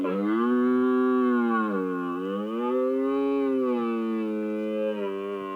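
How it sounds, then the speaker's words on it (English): Red deer stag in Scotland giving a long, loud, moaning roar that holds steady and then swells and wavers, carrying alone for several seconds with a deep, cow-like tone. "I'm going to start with the red deer recorded here in Scotland."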